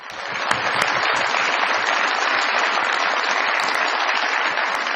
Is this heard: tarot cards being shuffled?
no